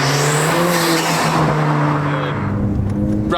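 A Ford Fiesta ST Stage 3 drives on the road, its engine roaring loudly and close up with a strong, rising and falling tone throughout.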